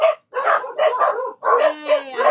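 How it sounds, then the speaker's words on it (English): Several dogs bark and yip in quick overlapping bursts at close range, loud and excited, with a brief whine mixed in. "I don't know why the dogs are barking."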